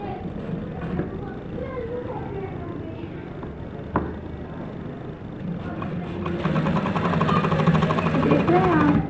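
A sewing machine stitches the folded hem of a frock with a steady mechanical hum and rattle that grows louder and busier toward the end, close by, with a voice heard at times.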